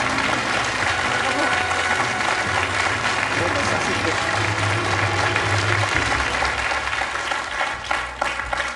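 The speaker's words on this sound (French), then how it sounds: "Et on peut l'applaudir encore une fois." A game-show studio audience bursts into sustained, loud applause for a newly crowned champion. The dense clapping runs the whole length, with a host's voice talking over it.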